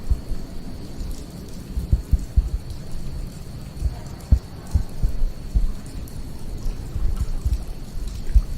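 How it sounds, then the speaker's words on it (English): Rain patters and drips irregularly around an old sanatorium, with soft thuds and low rumbling, a continuous wet trickling texture heard close up. "you can hear the trickling or the dripping of water"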